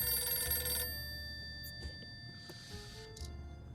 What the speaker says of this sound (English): The phone call's ringing.